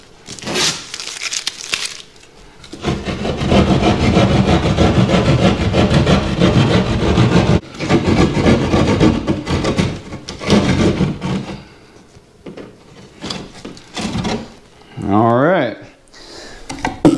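A sheetrock knife saws through drywall to cut out a hole during a home theater install, giving loud, steady rasping strokes for long stretches that break off, then short scrapes and a crumbly tear near the end.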